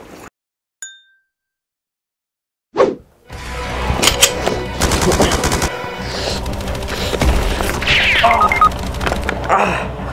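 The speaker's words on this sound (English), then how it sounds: "I got sniped." Sniper gunfire in a video game: a brief ding and a sharp crack after near-silence, then dense loud game combat with overlapping shots and impacts continuing throughout.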